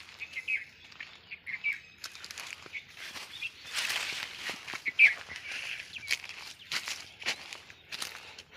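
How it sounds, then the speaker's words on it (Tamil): Small sparrow-like birds chirp in brief, high calls near a nest with chicks on a garden site, scattered among rustling, footstep-like thumps and faint background noise. "ஒரு குருவி வந்து கூடு கட்டி குஞ்சு வச்சிருக்கு சார்"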